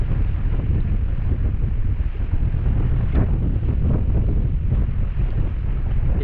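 Strong monsoon wind buffets the microphone at sea aboard a fishing boat, a constant loud roar with wave wash beneath and no talking.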